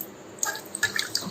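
Soaked pearl millet being drained, with water splashing and dripping in a few short bursts after a quiet start, close and fairly soft.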